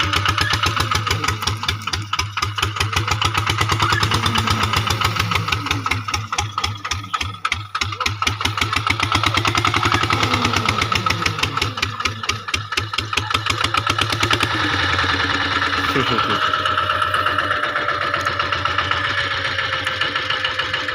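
A vehicle engine runs steadily as the vehicle is driven, with a constant medium-pitched drone and a light rattle. The tone shifts partway through.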